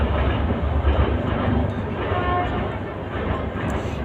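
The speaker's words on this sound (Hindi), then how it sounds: "ट्रेन आती हमारे घर के पास से डेली दिन भर में 50 बार चली जाती मालगाड़ी और ये रेलगाड़ी दोनों मिला के" A train, one of the goods and passenger trains that pass close to a home many times a day, rumbles steadily and loudly throughout with a continuous low roar.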